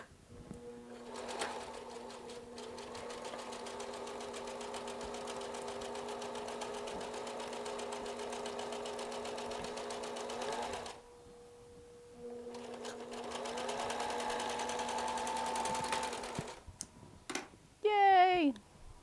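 A sewing machine stitches a thrift-store patchwork coat in two long, steady whirring runs, close and loud, with a short pause between them and a brief burst of handling noise at the end.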